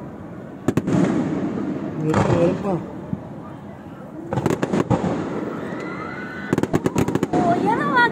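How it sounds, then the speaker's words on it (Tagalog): Fireworks burst over an SM mall on Christmas night, with sharp crackling pops in scattered clusters, some near and loud, and whistling trails rising between them, while people chat throughout. "Ang papangit ng fireworks."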